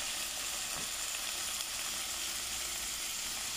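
Tomatoes fry in a pan for spicy Spanish sardine pasta, giving a steady, close, moderately loud sizzle that runs unbroken the whole time with no talking over it.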